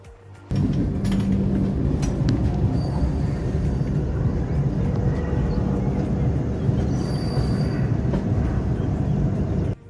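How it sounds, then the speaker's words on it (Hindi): A train departing Jammu Tawi station rumbles along steadily with rolling wheel noise and rattling carriages, loud and close, without pause for about ten seconds. "हमारी ट्रेन निकल गई जम्मू तवी रेलवे स्टेशन से।"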